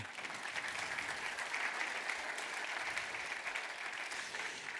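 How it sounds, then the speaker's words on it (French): A French-speaking audience applauds the translators, a steady, even patter of many hands clapping, heard faint and somewhat distant throughout. "Donc on peut les applaudir"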